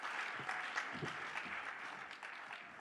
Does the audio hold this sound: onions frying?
no